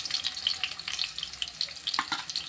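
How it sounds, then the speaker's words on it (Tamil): Ginger and garlic frying in hot oil left over from frying cauliflower, for gobi manchurian; a brief, close, crackling sizzle with bright spits and pops. "பாத்திரத்தை காய வச்சு எண்ணெய் ஊற்றி வச்சுருக்கோம்"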